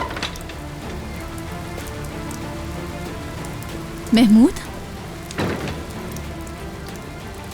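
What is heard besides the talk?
heavy rain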